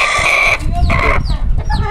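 Close, loud bursts of rapid gobbling and clucking from a male turkey, repeated several times in quick succession with no talking.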